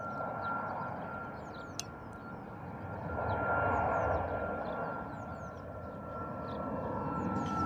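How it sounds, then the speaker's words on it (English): A Ryanair airliner takes off at Bristol Airport at sunrise, its engines a steady, moderately distant roar that swells to a peak midway and eases, with small birds chirping over it. "Very efficient takeoffs from the Ryanair."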